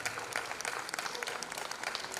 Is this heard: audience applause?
yes